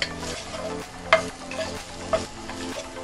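Lasagne filling is stirred in a pan after salt, black pepper and oregano go in, a soft steady sizzle with a few sharp scrapes and clinks of a spoon, close up.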